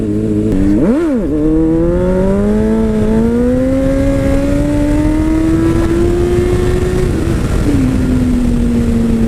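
A Honda CBR600RR sport motorcycle engine revs sharply on the throttle, then holds a rising, steady whine that drops back near the end, loud and close with no talk.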